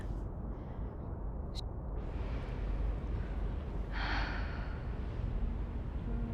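Zoe, the player character in Dreamfall Chapters, takes slow, deep breaths over a steady low background hum, with a brief airy exhale standing out partway through and no talking.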